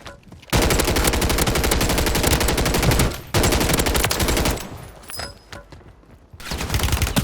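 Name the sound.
gunfire from a video game gun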